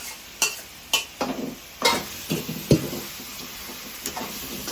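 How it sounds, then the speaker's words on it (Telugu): Masala-coated fish pieces mixed with ginger-garlic paste are stirred in a pan, a series of separate, close scraping and clinking strokes spaced about half a second apart over a faint background hiss. "ఈ మసాలా అంతా కూడా ఈ ముక్కలు పట్టేలాగా కలిపేసుకున్నాము"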